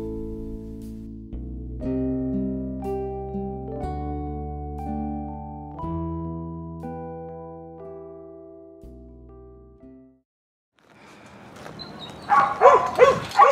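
Dogs at an animal shelter sound off, with long, stepped, tonal whines or howls for several seconds, a short pause, then a louder, ragged burst of barking near the end.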